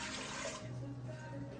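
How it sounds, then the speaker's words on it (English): Room-temperature water pours steadily into a bowl for Neapolitan pizza dough, a soft continuous splash and trickle that settles into a lower gurgle as the bowl fills. "Put the water in your bowl."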